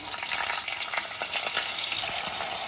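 Diced potatoes hit hot oil tempered with bay leaf and whole cumin and fry with a loud, steady, close sizzle, with occasional stirring scrapes and no voices.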